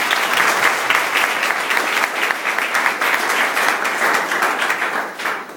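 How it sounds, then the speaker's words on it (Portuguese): Wedding guests break into a loud, dense burst of applause during the vows, steady clapping throughout that begins to fade in the final second. "Vamos aplaudir de novo."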